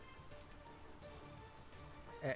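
Rain falls steadily outdoors at night in a mystery audio drama, a faint, even patter of drops that continues throughout.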